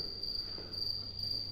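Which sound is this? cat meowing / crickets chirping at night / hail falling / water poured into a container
crickets chirping at night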